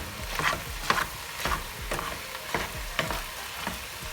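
Taco meat fries in a pan and is stirred with a five-blade mixing tool, giving a steady close sizzle with rhythmic scraping strokes roughly twice a second. No speech.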